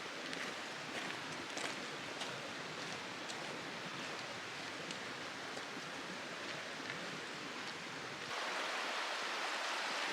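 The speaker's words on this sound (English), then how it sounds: "There's a spring right here. It's just bubbling right out of the ground." A spring bubbles out of the ground beside the Eagle Rock Loop hiking trail, giving a steady, soft watery rush that grows a little fuller and louder near the end.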